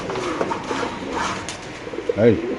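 Racing pigeons at a bird market give a soft, low coo near the end, with a faint call or two before it, under steady background chatter and the noise of a busy crowd.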